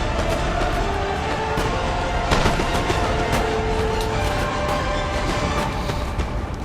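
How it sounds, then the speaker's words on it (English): Howitzers and musket volleys in the Napoleon Total War battle game: dense, continuous crackling gunfire with scattered sharper booms over a steady roar of battle, loud and unbroken throughout. "those howitzer shots are pretty devastating to his troops"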